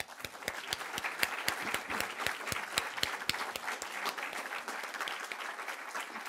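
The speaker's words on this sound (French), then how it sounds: "cela vaut certainement une bonne main d'applaudissements" Applause from an audience at an honour roll ceremony, steady dense clapping that continues without a break, moderately distant.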